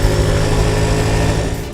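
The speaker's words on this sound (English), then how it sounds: "the Gixxer's engine sounds nice too, without being noisy, and it has smooth revs." A Suzuki Gixxer motorcycle engine runs close by with a busy, high, buzzing whirr, holding steady for under two seconds before easing off slightly.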